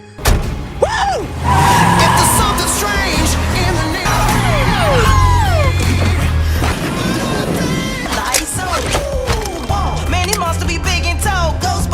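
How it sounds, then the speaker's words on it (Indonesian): Modified hearse car with a ghost logo speeding in a film scene, engine roaring close and loud alongside tire squeals, skids and crashing impacts, with brief voices mixed in. "Scene kemudian memperlihatkan mobil jenazah milik paman Patty yang sudah dimodifikasi oleh Holtzman dengan logo hantu"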